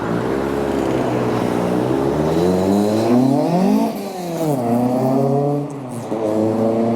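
A Ford Mark 1, an Imperial Blue car badged as a Mexico, revs hard as it pulls away, its engine note climbing, dipping and climbing again. The sound stays loud and close throughout, with no voices.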